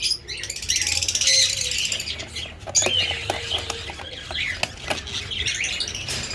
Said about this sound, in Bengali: খুব সুন্দর একটা ফিমেল লাভবার্ড পাখি